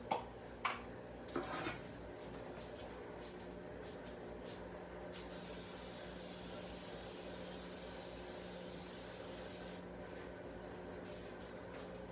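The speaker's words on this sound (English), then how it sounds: "Spray these pans." A few sharp clinks of sheet pans at first, then a long continuous hiss of Pam cooking spray lasting several seconds before stopping.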